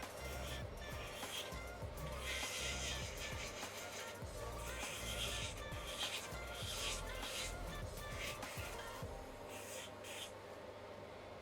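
Continuous buzzing grind of a wireless electric nail file with a sanding band on a mandrel bit sanding acrygel nails, steady and close, with faint voices in the background.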